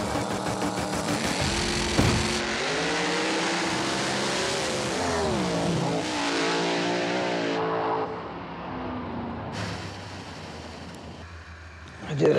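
A drag racing car launches on a street race, its engine howling loud and close through rising gear pitches for several seconds, then fading into a distant drone before another sharp burst at the end.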